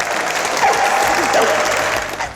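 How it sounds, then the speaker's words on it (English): An audience gives a round of applause at a pet-weight-loss show finale, steady loud clapping from a crowd that carries through to the end with a voice briefly over it. "Another round of applause, I think"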